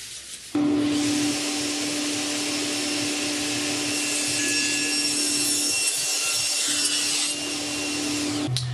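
A Festool table saw cuts wood with a steady, loud motor whine and high blade tone that holds for about eight seconds before briefly dipping, with no talking.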